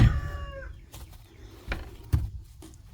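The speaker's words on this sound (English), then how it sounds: "Chickens are let out." Chickens let out on a homestead in fall, a rooster's short call then scattered soft clucks and shuffling nearby, no talking.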